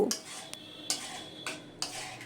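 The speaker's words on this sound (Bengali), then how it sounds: "এবারে নেড়ে চেড়ে নিয়ে মিশিয়ে নেব" A metal spoon scrapes and clinks against a pan while mustard greens for sarson saag are stirred and mixed, giving four crisp strokes at an even pace.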